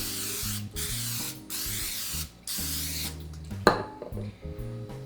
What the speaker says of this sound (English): I'm just spraying this with a little bit of cooking spray